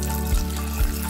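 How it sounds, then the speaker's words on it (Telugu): Water pours steadily into a pot of chopped raw mango pieces for boiling, a continuous close splashing flow with two brief dips. "కొంచెం నీళ్ళు పోసుకొని"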